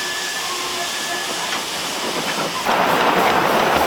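A restored steam locomotive chuffs along its track at a railway museum open day, a steady close hiss of steam that grows louder and rougher toward the end.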